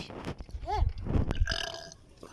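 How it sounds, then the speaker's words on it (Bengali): A loud, drawn-out burp rumbles up close, breaking into a few croaky pulses before fading out. "ঢেকুর তুলে দেখুন হাতির চেয়ে বেশি"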